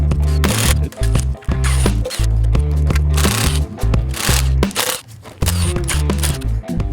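A ratcheting driver works T30 bolts loose from the lower timing cover of a failed 2.0 TSI engine during teardown, with loud close clicking bursts and brief pauses between bolts.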